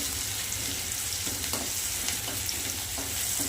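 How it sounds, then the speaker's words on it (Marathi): Chopped onion frying in oil in a pan for a home-style puri bhaji: a loud, constant sizzle with occasional soft clinks of a stirring utensil. "हे ना कांदा मस्त लाल होऊ द्यायचा आता"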